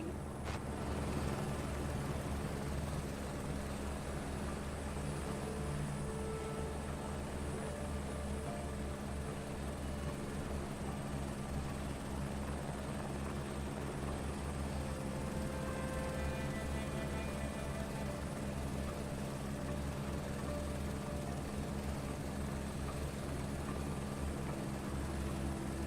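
Aircraft engine droning steadily through a landing approach in Microsoft Flight Simulator 2024 career mode, a constant loud propeller-like hum with no breaks or talking.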